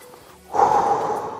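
A single deep, breathy exhalation during a back, shoulder and core exercise workout; after a quiet moment, a steady, close rush of breath begins and gradually softens.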